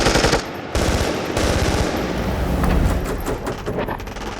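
Dramatized machine gun fire in a battle scene against emus, loud rapid bursts of shots rattling in close succession, then a rolling barrage of gunfire that carries on densely with no voices.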